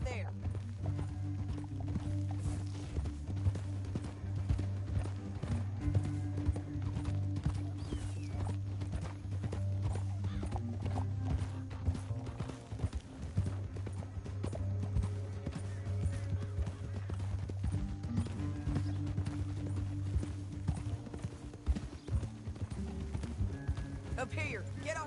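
Horse hooves clip-clop steadily in Red Dead Redemption 2, a continuous trotting rhythm set under game dialogue and a low droning score, with occasional faint whinnies in the mix.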